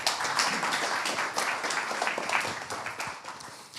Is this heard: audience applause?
yes